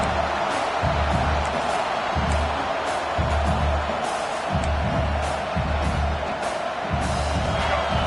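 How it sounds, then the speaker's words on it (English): A large stadium crowd at a college football game against Arkansas roars continuously, a steady wash of cheering and noise with faint rhythmic thumps underneath. "This crowd bringing the energy and noise early."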